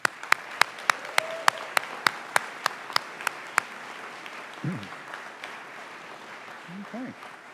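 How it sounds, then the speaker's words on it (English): A White Coat Ceremony audience for new pharmacy students gives a round of applause, opening with a run of sharp, evenly spaced claps before settling into a steadier wash of clapping. A voice comes through faintly near the end. "How about one more round of applause for them?"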